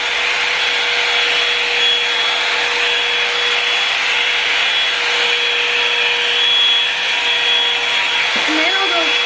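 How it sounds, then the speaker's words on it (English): A blow dryer runs on hair, giving off a steady, loud whooshing hiss with a faint constant whine, and a brief sound comes in just before the end. "I'll take my blow dryer and just go like this while it's on"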